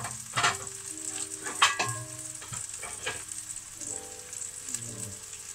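Chicken breast browning in a hot pan gives a steady, close sizzle and crackle, with a few clinks and scrapes of utensils against the pan and no talking.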